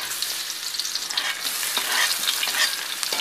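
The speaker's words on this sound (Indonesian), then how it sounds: "sekarang kita masukin bawang merah sama bawang putihnya" Shallots and garlic fry in a hot pan with a steady, dense sizzle and crackle, stirred throughout, close and continuous with no voices.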